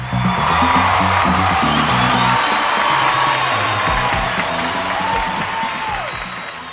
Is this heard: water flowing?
no